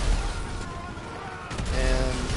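SWAT officers firing guns in GTA 5, rapid bursts of gunfire crackling over a dense game soundscape, with a short lull before the shooting resumes.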